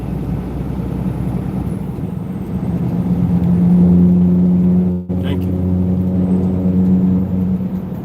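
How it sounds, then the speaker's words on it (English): Truck cab engine and road noise hum steadily throughout, a loud low rumble with a brief dip midway before the drone resumes. "with all the noise going on in the truck"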